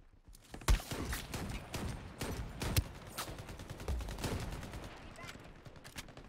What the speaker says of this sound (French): J'ai tiré tout à coup.